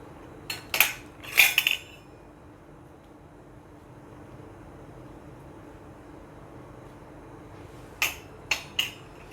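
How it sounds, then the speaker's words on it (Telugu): Knife cutting watermelon barfi into pieces on a plate: a few sharp clinking and scraping strikes near the start, then a long stretch of quiet room hum, then three more quick clinks near the end. "ఇలా 4 పీసెస్గా కట్ చేసుకోవాలి."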